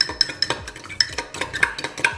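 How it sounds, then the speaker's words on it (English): A spoon stirs yeast and sugar in a cup, scraping and clinking against the sides in a steady, quick rhythm of close, bright taps, with no voices. "And then we're gonna just give it a little stir and set it to the side."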